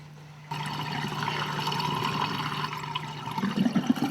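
Water from a full basin rushes through a pipe trap in a steady gurgling drain, with a faint hum beneath and louder glugging bubbles near the end.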